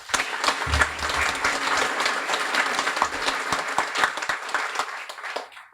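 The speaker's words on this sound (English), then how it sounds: "So can we just have a round of applause for them?" An audience at a guide dog graduation ceremony breaks into full, lively applause that holds strong for several seconds before tapering off at the end.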